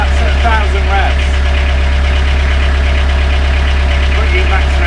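Diesel engine of a narrowboat idling at about 1,000 revs, a steady loud low rumble with constant harmonic hum throughout, close by and alone.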